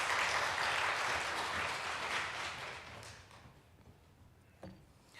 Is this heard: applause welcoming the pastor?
yes